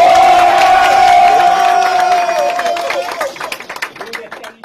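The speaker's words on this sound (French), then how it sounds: "applaudissez pour vous-même" Cameroon's national football team cheers and claps after qualifying for the second round of the tournament, a loud sustained roar of shouting voices that thins out over the final seconds into scattered claps.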